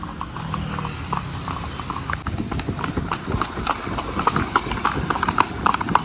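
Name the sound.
two horses' hooves clip-clopping while walking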